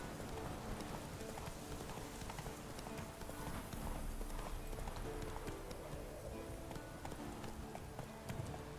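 Roach the horse running in The Witcher 3, hooves clip-clopping in a steady, continuous rhythm through the whole stretch, close and moderately loud over dense ambient game background.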